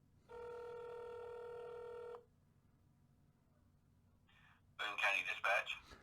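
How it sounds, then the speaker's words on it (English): A telephone call goes out: a steady two-tone ringback tone sounds for about two seconds, then near silence with a short electronic blip before a voice answers over the line. "Let's make some phone calls, guys."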